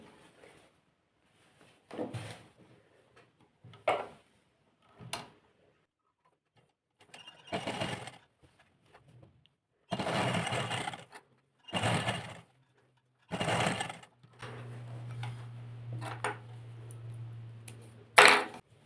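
A sewing machine runs a number 5 stitch length along a folded strip on a suit's V neckline in bursts of several seconds with quiet gaps between, close and alone, ending in a steady low hum.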